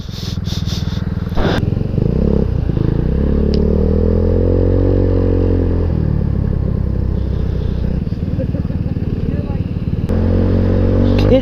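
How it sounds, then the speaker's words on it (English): A small Genuine Blackjack scooter's engine drones steadily while being ridden, with pitch rising and falling as the throttle changes and wind noise on the microphone. "It handles really well for a tiny little scooter"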